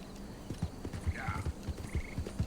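Horse hooves clip-clop steadily at a walking rhythm in a horror video game, fairly quiet, with a couple of brief whinnies rising over the hoofbeats.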